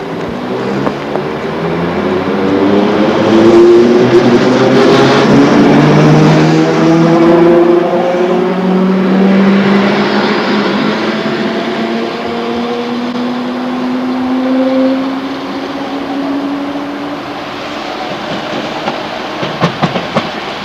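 Battery railcar running in Germany, with electric motor whine rising and falling in pitch as it speeds up and slows, wheels rumbling on track and a few clicks at the end, loud and close with no voices.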